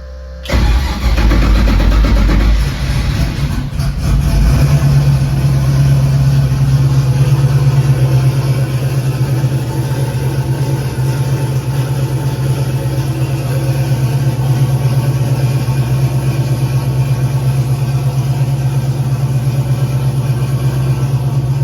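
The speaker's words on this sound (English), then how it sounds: "I'm going to go ahead and fire up the truck, give it a quick test" A truck engine fitted with a Holley Terminator X cranks briefly, catches with a loud rev, then settles into a steady, even idle that runs on for the rest of the stretch, close by.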